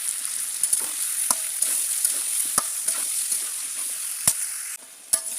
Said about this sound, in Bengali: আমি ওই তেলে এখন গোশ ভেজে নেব। আমি একটু লবণ দিয়ে ভেজে নেব।